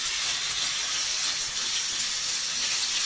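Masala-coated fish sizzling in hot oil in a pan on the stove, a steady, close, dense crackling hiss throughout, no talk.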